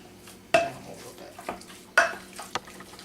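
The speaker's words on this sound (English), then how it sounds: "And I'm just mixing it really good" A spoon stirs turkey chili ingredients through oil in a pot, giving a few distinct clanking scrapes against the metal over a soft background sizzle, with no talking.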